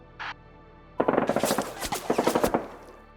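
Thompson submachine guns firing in a Konflikt '47 tabletop wargame battle, as a sound effect: a short tone blip, then about two seconds of rapid, loud automatic bursts with sharp repeated cracks, close and alone.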